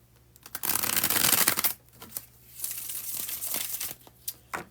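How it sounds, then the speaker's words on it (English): A deck of playing cards given a bridge shuffle: a long rapid riffle of flicking cards, then a softer cascade as they bridge back together, followed by a few short taps and squaring noises, close and alone. "when I do the bridge shuffle"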